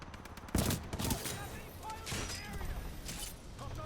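Flatline assault rifle firing in Titanfall 2, with sharp bursts of close gunfire near the start and shorter bursts later over a continuous busy game background.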